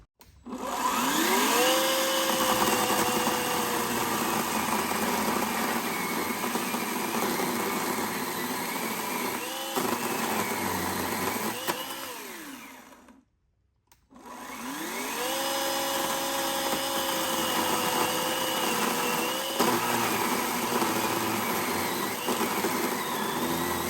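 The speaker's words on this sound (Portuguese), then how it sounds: "Aqui é um galho seco de pitangueira, uma madeira bem dura de 60 milímetros de diâmetro. Motosserra 18 volts." An 18-volt Einhell GE-LC 18/25 Li battery chainsaw whines steadily as it cuts a hard, dry 60 mm pitanga branch, pitch dipping under load, stops briefly, then starts up and cuts again.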